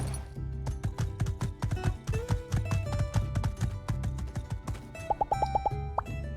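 Horse hooves clip-clopping in the life-sim video game My Time at Sandrock, a brisk run of hoof taps over tonal game music and chimes, with a quick rising series of bell-like notes near the end.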